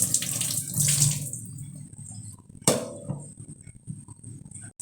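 Tap water runs into a sink while lentils are washed, a steady splashing stream with a sharp clink partway through, then quieter trickling and handling sounds before the flow cuts off at the end.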